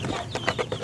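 Chickens on a farm being offered maggots cluck in a few short, close bursts, with some low background rustle.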